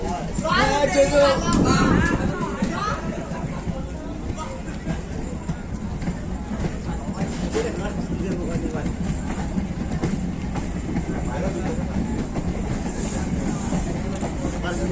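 Howrah to Amta local train rolling on rails, a steady close rumble and rattle of the moving carriage with a louder burst early on, voices and chatter audible underneath.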